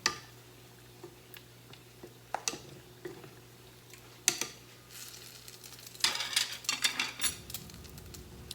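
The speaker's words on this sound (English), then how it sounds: "I'm just going to stir this up till it's evenly distributed with bacon and zucchini in the mixture" A bacon and zucchini mixture is stirred in a pan, giving scattered scrapes and clinks of a utensil against the cookware over a low steady hum, with a busier burst of stirring near the end.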